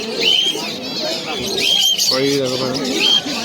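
Pigeons coo and chirp among the crowd at the Uluberia market pigeon stalls, with soft calls recurring through steady nearby talking.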